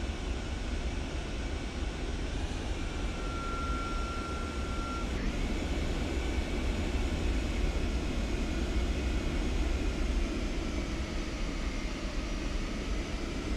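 Steady broadband roar of Boeing 707 jet engines after landing in Microsoft Flight Simulator 2024, a constant loud rumble and hiss with a thin brief tone partway through.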